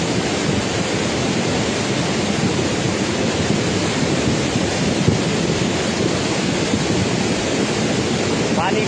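Raging floodwater of the Gadsa river in Himachal after a cloudburst, carrying wood: a loud, continuous broadband roar of rushing water, steady and close throughout with no pauses.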